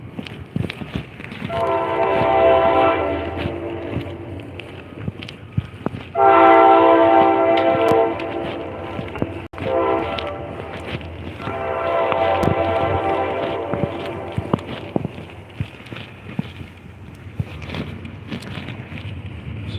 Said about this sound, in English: Metro North Railroad there.